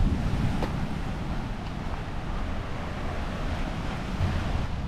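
Steady washing surf on a beach between Cairns and Port Douglas, Australia, with a broad rushing roar and some wind buffeting the microphone, no voices.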